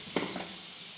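Vatta fish frying in oil, a steady close sizzle with a short burst of louder spattering early on, alone without voices.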